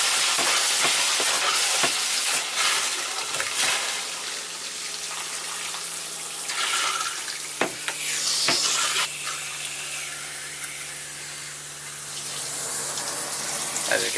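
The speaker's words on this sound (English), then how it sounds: "we've got antifreeze coming out there, so that one is done" Antifreeze runs steadily out of an opened water valve in a camper being winterized, a continuous hissing splash like a tap with a few sharp knocks over it, fairly close and loud.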